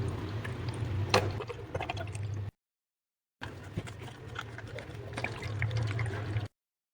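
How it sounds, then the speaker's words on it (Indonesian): Homemade lizard repellent liquid poured into a spray bottle, a close, steady trickle of liquid in two bursts separated by a short silent gap. "kemudian lanjut kita masukkan ke dalam botol semprotannya ini"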